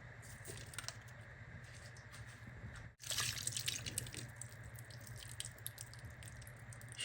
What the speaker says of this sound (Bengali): সব তেল আমি দিয়ে দিলাম।